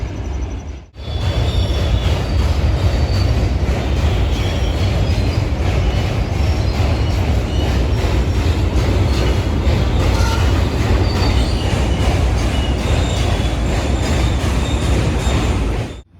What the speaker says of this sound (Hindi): यहाँ नीचे से ट्रेन आ रही है